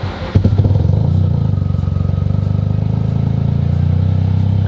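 A 500 WHP Toyota GR Corolla engine cranks and catches, then settles into a loud, close, lumpy idle with a fast rhythmic chug and slight clatter that holds steady, with no talking.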